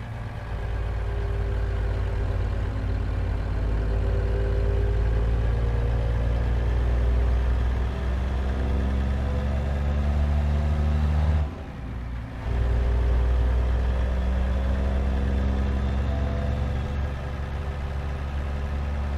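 Caterpillar C truck engine idling cold in American Truck Simulator, a loud steady low diesel rumble with constant tone, briefly dipping once before resuming, no voices.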